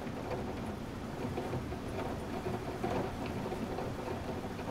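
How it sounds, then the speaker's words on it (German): Rain patters on a roof in the video game The Clearing, a steady, even, muffled drumming with no voices. "Das ist einfach nur der Regen auf dem Dach hier."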